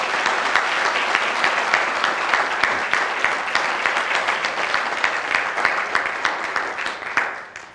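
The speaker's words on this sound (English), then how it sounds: "Can we give her another round of applause" Steady, dense applause from an audience at a district business appreciation breakfast, sustained loud clapping that carries on for several seconds before tapering off at the end.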